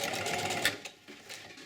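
A sewing machine stitches canvas moccasin uppers in a short steady whirring run that slows and stops partway through, close up, with no talking.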